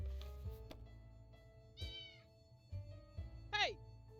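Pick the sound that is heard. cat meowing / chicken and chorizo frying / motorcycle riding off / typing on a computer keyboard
cat meowing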